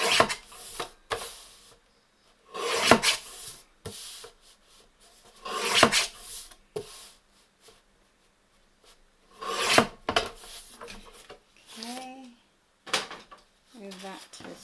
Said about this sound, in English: let's get the trimmer. We're going to cut this white off.